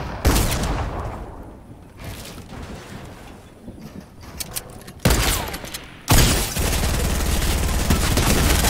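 Gunfire in the video game Fortnite: loud, dense bursts of rapid shots fill most of the stretch, thinning briefly in the middle and then returning as sustained heavy fire, with no voices over it.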